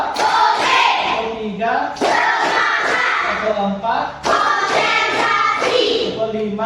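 A classroom of children claps a counted rhythm in loud group bursts while chanting numbers together, close and energetic.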